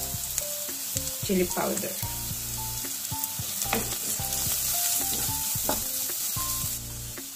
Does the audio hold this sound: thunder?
no